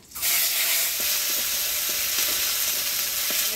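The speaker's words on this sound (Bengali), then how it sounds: "ফোড়নে দিয়ে দেবো শুকনো লঙ্কা গোটা জিরা তেজপাতা" Dry red chillies, whole cumin and bay leaf hit hot oil in a sudden loud sizzle that holds steady and close, with faint pops and crackles scattered through it.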